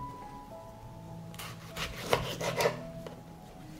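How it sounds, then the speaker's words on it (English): A knife cuts through a tomato on a board, a few soft close rasping strokes and light taps clustered in the middle, fairly quiet with no talking. "I will clean the tomato from the center and cut it into slices"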